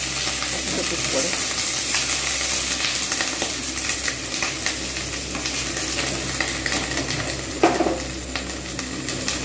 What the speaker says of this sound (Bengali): ফুলকপিটাকে আমি ভালোভাবে ভেজে নেবো